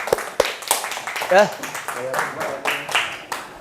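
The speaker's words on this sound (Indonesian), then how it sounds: "Terima kasih untuk Pak Jajan, tepuk tangan dulu." A few scattered hand claps ring out in an Indonesian classroom, thanking a participant, sharp and uneven, mixed in among a teacher's speaking voice.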